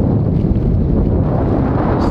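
Steady, loud wind buffets the microphone on a lake during a canoe trip, a continuous roar with no let-up.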